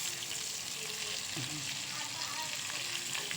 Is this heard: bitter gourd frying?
yes